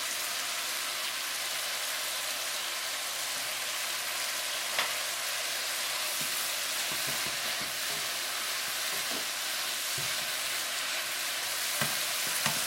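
Beef and cabbage stir-frying in a pan give a steady, even sizzle throughout, with occasional light scrapes and clicks of stirring and no voices.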